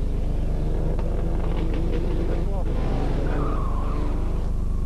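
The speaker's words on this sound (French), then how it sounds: "de gros problèmes de moteur, de régulateur d'essence" A rally car on the sixth special stage of the 1993 Rallye Grasse Alpin has serious engine and fuel regulator trouble. Its engine drones and rumbles unevenly with tire noise, under a voice commenting.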